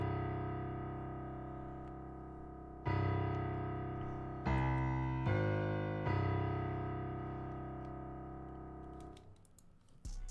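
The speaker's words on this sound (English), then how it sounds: "I then added another piano bass on top of that from the Neue Pure library in Kontakt, just to give it a little bit more of a full sounding effect" Low sustained piano bass notes from the Neue Pure library in Kontakt, layered over a dark ethnic sample loop, shift through a few long held tones before trailing off into faint clicks.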